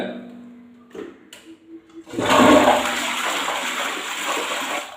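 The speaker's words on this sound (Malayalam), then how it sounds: "ഇതുപോലെ ഒന്ന് ഫ്ലഷ് ചെയ്ത് കഴിഞ്ഞാൽ" A toilet is flushed after a salt-based cleaning solution has been left in the bowl for about an hour. A few soft clunks from the handle come first, then a loud, close rush of water that keeps running steadily.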